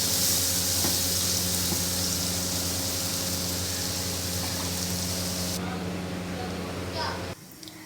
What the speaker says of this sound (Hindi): अब टमाटर सॉफ्ट होने तक इनको हम पकाएंगे।